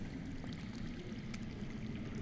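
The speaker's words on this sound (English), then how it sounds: "I hear water. From underground." Steady low rushing of water flowing somewhere underground in a Game of Thrones video game, a continuous wash of running water with no breaks, fairly quiet and unaccompanied by voices.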